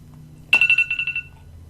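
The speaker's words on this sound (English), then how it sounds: "Here's my phone going off." A phone rings with a short burst of rapid electronic warbling pulses, loud and close, cutting off after about a second with no talking.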